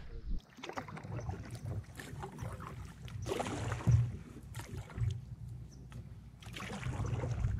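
Quiet splashes and dips of a paddle in water come in irregular strokes, with faint wind and water movement around a canoe on a winding river in Algonquin, Canada.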